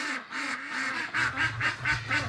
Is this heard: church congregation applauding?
no